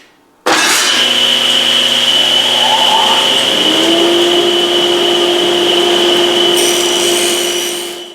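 A power saw starts abruptly and runs loud and steady with a strong whining tone, cutting a piece of wood veneer to length in a woodshop before the motor winds down.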